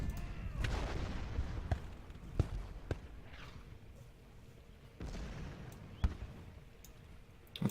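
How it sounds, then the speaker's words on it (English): Artillery fire in the Civil War strategy game Ultimate General: Gettysburg, a rolling battlefield din with several sharp booms and cracks standing out at irregular intervals over a steady rumble. "They will get destroyed by all this artillery."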